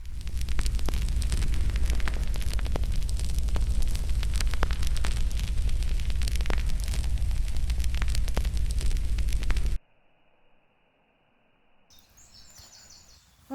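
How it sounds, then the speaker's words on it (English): An outdoor campfire on a solo overnight bushcraft camp crackles and pops loudly and steadily for several seconds, then the sound drops away to near quiet. "Let's go and light a fire."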